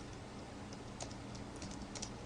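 Quiet clicks of C++ code being typed on a computer keyboard, soft and scattered in short bursts over a steady background hum.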